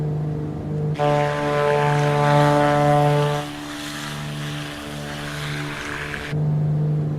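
Black Square Grand Duke, a twin piston-engine plane in Microsoft Flight Simulator, drones steadily through its takeoff run with a harmonic propeller hum that swells and then settles lower, with no voices.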